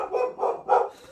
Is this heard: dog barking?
yes